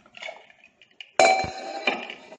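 A metal pressure cooker lid is set on and closed, with faint handling clinks followed by a sharp, ringing metallic clank and a brief rattle, close and loud with no talk.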